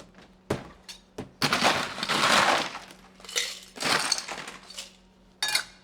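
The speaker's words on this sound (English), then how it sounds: "fill up this shaker with some ice" Small ice cubes are scooped and poured into a cocktail shaker at a dive bar, making a series of clattering, clinking bursts of varying length, close and fairly loud with no voices.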